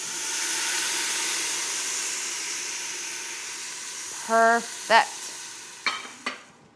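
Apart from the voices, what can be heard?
celery, onion and carrots sauteing with a little beef broth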